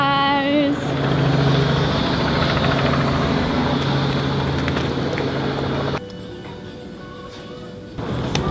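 A helicopter's engine and rotors drone loudly and steadily nearby in New York City at night, then the roar drops sharply and continues more softly.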